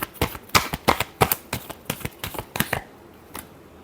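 Tarot cards being shuffled by hand, a quick run of crisp riffling snaps in uneven bursts, close and clear, then trailing off into near silence.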